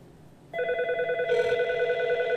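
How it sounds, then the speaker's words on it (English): An inbound call from a SIP trunk rings on a FreePBX extension with a steady electronic ring tone that starts abruptly and then holds, a brighter layer joining partway through, close and clear with no talk. "there we can see the call is ringing on extension 200"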